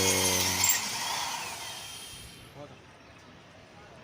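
A power drill whines at high pitch and then winds down, close by, drilling during solar panel mounting work, fading into a quieter rattle as a voice talks over it.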